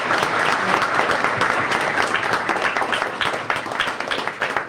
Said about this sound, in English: let's give all them a round of applause.